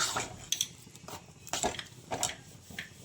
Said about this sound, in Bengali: আমি একটু জল দিলাম, জল দিয়ে একটু নেড়ে নিচ্ছি।